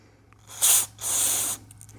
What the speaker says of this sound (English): we're going to blow it out from the back side. This is just some carb cleaner that I have.